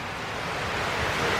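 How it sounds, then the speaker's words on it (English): Heavy rainwater pours down house gutters during a tropical depression, a loud, steady broadband rush that swells slightly over its length, close by with no voices. "That is how much water is coming down our gutters."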